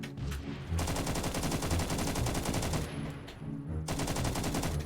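A C7 LSW light machine gun fires in the game Phantom Forces, loud sustained automatic bursts with a brief pause between them, heard alone without talk.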